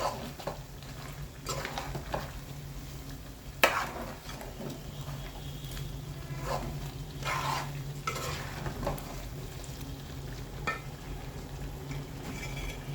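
Chicken pieces frying in hot oil for a chicken pickle, stirred so they don't stick: a steady soft sizzle under scraping and occasional clinks of a spoon against the pan, with no talk.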